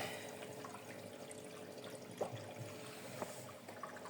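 Water trickling and flowing into a Brandt dishwasher under repair, a steady low wash of running water with a couple of faint clicks and drips, fairly quiet and with no talking.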